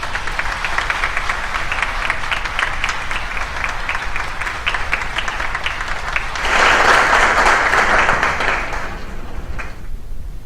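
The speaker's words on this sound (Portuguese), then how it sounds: "Uma salva de palmas." A congregation at a church novena service breaks into sustained applause, steady and dense clapping from a crowd indoors that swells louder near the end before tapering off.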